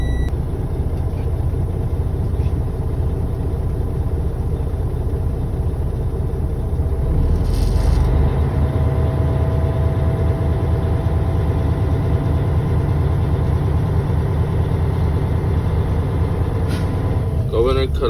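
A truck's diesel engine idles steadily throughout while its air system builds pressure toward the governor cutoff at 120 to 140 psi, a continuous low rumble with a brief hissy burst midway and a voice talking over it.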